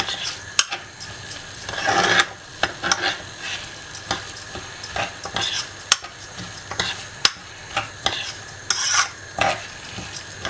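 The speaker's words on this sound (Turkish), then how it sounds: "Ve karıştırmaya devam ediyorum." Rice with a pinch of salt stirred in a pot for chickpea pilaf, with steady sizzling underneath and repeated scraping strokes of a spoon against the metal, close and alone.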